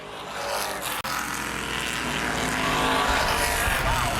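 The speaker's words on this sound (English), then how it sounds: "Nick Moore and Segvich both spin off the final corner." Street stock race cars spin off the final corner of the asphalt oval at Baer Field Speedway during a CRA race, engines roaring loud and steady with a brief dropout before the noise swells again.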